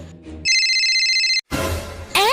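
A phone rings with a bright, steady electronic ringtone tone held for about a second, close and loud, followed by a rush of noise and a brief voice.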